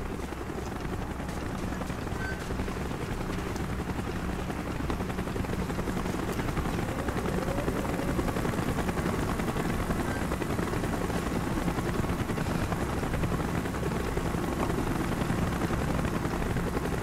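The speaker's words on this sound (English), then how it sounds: "Chopper's inbound." In the Call of Duty: Black Ops video game, a helicopter approaches with a dense, roaring rotor drone that fills the scene continuously and grows slightly louder, with possible distant gunfire layered underneath.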